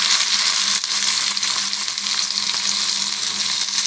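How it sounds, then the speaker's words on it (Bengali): Chopped garlic and onion frying in a pan, producing a loud, continuous hiss and crackle of hot oil with faint stirring underneath and no voices. "এখন রসুন আর পেঁয়াজটাকে আমি ভেজে নেব।"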